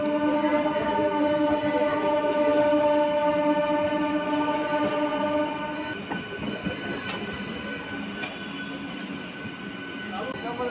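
A MEMU local train rumbles steadily as it switches tracks entering Bishnupur junction, its tonal drone and wheel noise easing midway, with faint squeals and clacks over the points.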